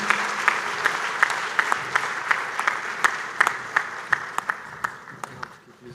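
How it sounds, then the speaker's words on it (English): Standing audience applauds the guest of honor walking to the podium at an East African accountants' congress, a steady wash of clapping with distinct individual claps standing out, gradually thinning and fading toward the end. "give the guest of honor heavy claps as he goes to the podium"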